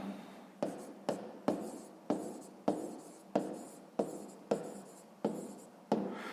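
Pen on paper as a math solution is written out by hand, with a steady series of about a dozen short scratching strokes, each a distinct close, dry scrape, coming in an even rhythm with no talk.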